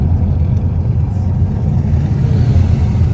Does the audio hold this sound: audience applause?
no